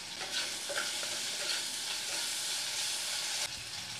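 Halved tomatoes fry with salt in a pan over a low gas flame, giving a steady, close hiss of sizzling with a few soft stirring scrapes and no talking.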